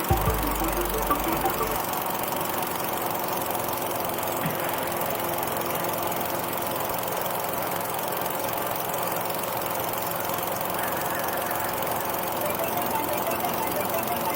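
A hovercraft engine idles without thrust, a dense, steady rumbling drone with a slightly knocking texture that stays even and close throughout, with no one talking.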